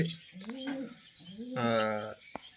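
Pigeons sick with pox coo nearby in low, throaty warbles, with one longer rolling coo standing out among softer calls.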